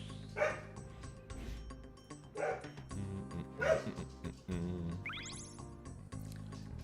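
An anxious puppy barks and yips repeatedly in the background, a series of sharp bursts spaced about a second apart, mixed with steady video game music and effects, including a rising chirp near the end.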